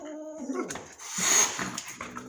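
A playful dog gives brief whimpers and a short growling yelp, close and fairly quiet, lasting only a couple of seconds.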